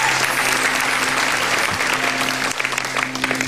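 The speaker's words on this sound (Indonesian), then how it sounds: "Mainkan, tepuk tangan dulu." A studio audience at a sitcom taping claps steadily in a dense burst of applause that thins out toward the end, with faint voices underneath.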